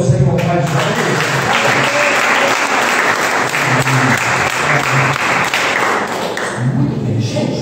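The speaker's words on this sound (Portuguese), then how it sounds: "Você pode aplaudir o Senhor Pai de Deus?" A church congregation applauds during a Sunday evening service, loud sustained clapping filling the room for several seconds and easing off near the end, with voices audible beneath it.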